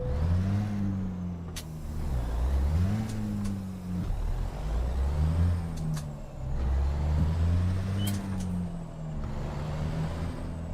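A Kenworth truck with an N14 engine idles and revs in American Truck Simulator, a steady, loud diesel drone rising and falling in repeated throttle swells with occasional clicks and air-brake hisses.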